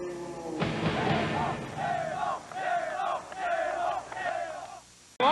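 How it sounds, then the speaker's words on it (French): Wrestling crowd at Centre Molson in Montreal roaring in delirium over a WWF match, a dense, loud wall of cheering and yelling with rising waves of shouts, ending abruptly. "Enregistrer la foule, qui était en délire d'ailleurs."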